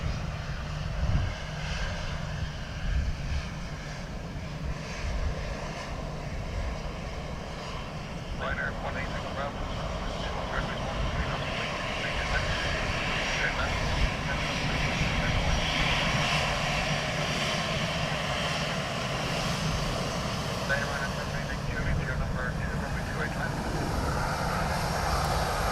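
Ryanair airliner arriving from Seville at Dublin Airport, a continuous loud engine roar that holds steady across the whole stretch while voices talk over it.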